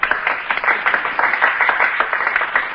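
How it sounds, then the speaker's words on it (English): People on a sidewalk applaud in a steady, dense patter of clapping from a crowd, moderately loud and continuous with no talk over it. "the people on the sidewalk are applauding"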